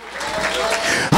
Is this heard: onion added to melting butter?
no